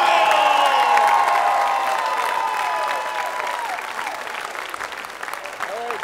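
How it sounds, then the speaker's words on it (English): A concert crowd bursts into loud applause and cheering after a taiko drum performance, dense clapping with whistles and shouts that stays strong throughout and tapers slightly toward the end. "And the crowd goes wild!"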